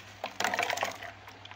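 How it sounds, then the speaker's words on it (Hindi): Ice cubes dropped into a jug of strained watermelon juice, a quick close cluster of clinking, knocking hits that fades within a second. "चलिए अब इसमें हम बर्फ़ डालेंगे"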